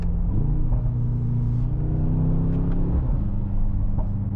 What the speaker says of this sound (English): You have so much mechanical noises with this car, the blow off, the transmission, the exhaust, the engine, turbos